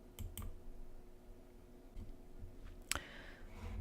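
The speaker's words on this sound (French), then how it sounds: "On n'a qu'à cliquer sur étape suivante." A couple of soft computer mouse clicks in a quiet room, faint and brief, with a sharper click near the end over low background hiss.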